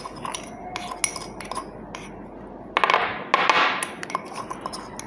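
A metal spatula scraping and clinking against a dish while mixing chemical samples in a school chemistry practical, a run of light taps followed by a louder stretch of steady scraping, close and alone.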